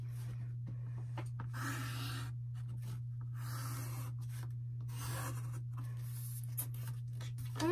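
A pen or marker scratches lines onto a wooden gingerbread house ornament in short, quiet strokes with pauses between, over a steady low electrical hum.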